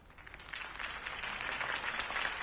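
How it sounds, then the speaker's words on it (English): A crowd applauds at a speech in a live Batman stage show, the clapping swelling from quiet to a sustained, moderately loud roar heard at some distance. "could have heard that applause"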